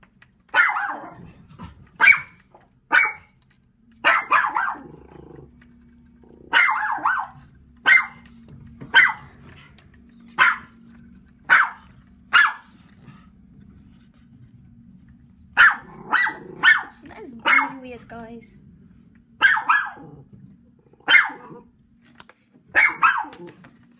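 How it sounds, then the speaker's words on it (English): A terrier barks in short sharp bursts, repeated every second or so in uneven clusters across a quiet outdoor setting, fairly close and loud, with a faint low hum between barks. "My dog is barking again."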